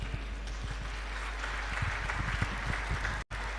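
Applause from the audience at a youth summit and International Youth Day celebration in Nigeria, a steady broadband patter held at moderate level, cutting out briefly near the end.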